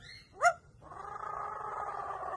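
A pet parrot imitates a cat, giving a brief, sharp meow-like squeak followed by a sustained, buzzy purring or growling tone, close and fairly quiet, with no speech.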